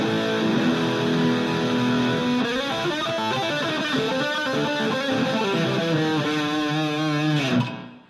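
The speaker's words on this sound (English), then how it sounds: "here's the high gain tones with the dirty channel on the amp" Michael Kelly '59 Thinline electric guitar played through the high-gain dirty channel of an amp, sustained distorted chords and notes ringing loudly, then cut off abruptly at the end.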